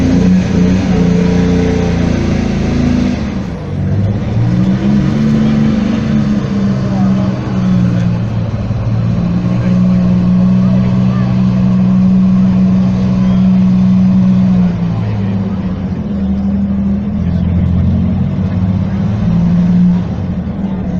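Historic museum tank driving in a dynamic demonstration at Saumur: a loud, steady engine drone with a shifting pitch as the tank moves, continuous throughout, under someone speaking French over a public address system.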